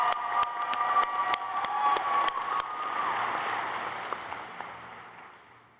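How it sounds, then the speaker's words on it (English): An audience at a 2023 law school graduation claps in a dense, crackling round of applause that rises and then gradually fades, with a few sharp individual claps standing out near the end. "Now let's give them a round of applause."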